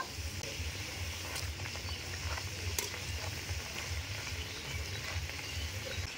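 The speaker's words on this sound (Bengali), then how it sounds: "তেলে দেওয়ার সঙ্গে সঙ্গে দুধ গোকুল পিঠেগুলো কিন্তু ফুলে উঠেছে কত সুন্দর। আর এগুলো কিন্তু বেশি ভাজা হবে না, হালকা করে ভেজে নেব।" Dudh gokul pitha fry lightly in hot oil, giving a continuous, even, crackling sizzle that holds steady and fairly close throughout, with no voices.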